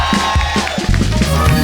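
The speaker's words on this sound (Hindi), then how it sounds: "जोरदार तालियां पीयूष और युजवेंद्र के लिए।" Loud, dense applause and cheering from a studio audience on a comedy talk show, welcoming cricketers Piyush Chawla and Yuzvendra Chahal, sustained throughout with crowd noise swelling at the end.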